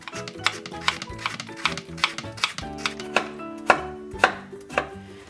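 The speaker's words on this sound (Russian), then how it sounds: "Картофель нарезаю небольшими кубиками" A knife chops two large potatoes into small cubes on a board, with quick, steady strikes at close range over soft background music.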